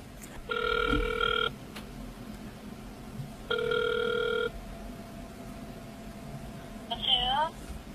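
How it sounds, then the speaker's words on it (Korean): A phone line rings out while a call is placed from a radio studio. Two long electronic ring bursts about two seconds apart sound clearly and alone, followed by a short warbling tone near the end. "우리 한번 이분한테 전화를 해볼까요?"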